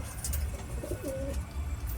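Pet pigeons coo briefly and softly in a loft, a low rolling call rising mid-way through against a steady background hum.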